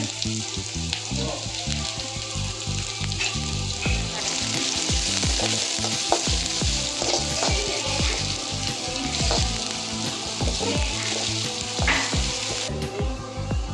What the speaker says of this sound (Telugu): మనం చిన్నగా తరిగి పెట్టుకున్న ఉల్లిగడ్డ చిన్నగా తరుక్కున్న పచ్చిమిరపకాయలు అయితే వేసుకున్నాం కొంచెం ఫ్రై కానివ్వాలి